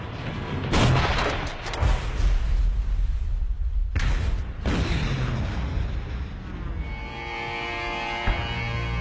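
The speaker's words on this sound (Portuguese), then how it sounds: "Ouvimos o estrondo das armas." Heavy naval guns boom repeatedly in a WWII battle off Guadalcanal, loud blasts rolling into rumbling reverberation, followed by a sustained musical score, with no speech.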